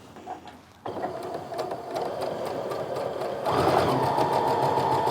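A sewing machine stitches a seam on a half-square-triangle quilt, starting after a brief quiet moment with a rapid rhythmic needle clatter that continues steadily and grows slightly louder toward the end.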